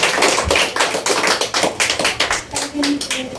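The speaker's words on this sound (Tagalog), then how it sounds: "Pumalakpak nga po yung may natututunan." Congregation at a church service breaking into applause, a dense run of many hands clapping with uneven bursts, close and loud, with a voice talking over it.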